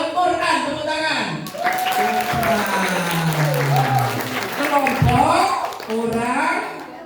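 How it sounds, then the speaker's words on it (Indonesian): An audience at an elementary school religious talk breaks into sustained applause, a dense wash of clapping that runs for several seconds with voices and children's chatter mixed in over it. "Tepuk tangan."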